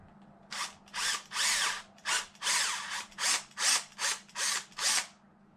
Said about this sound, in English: then you will have to drill it out a little bit